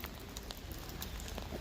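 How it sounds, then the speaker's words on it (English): Rain falls outside the basilica of St. Paul Outside the Walls in Rome, a dense, steady hiss of drops with faint patters, moderately soft and continuous, with no voices. "it's raining again."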